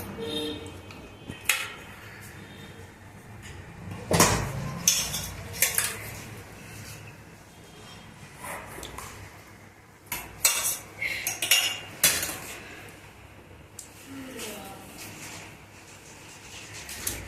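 Chicken pieces stirred in a pot while cooking biryani, with scattered metal spoon clinks and scrapes against the pot, some sharp and loud, others soft, over a quiet background.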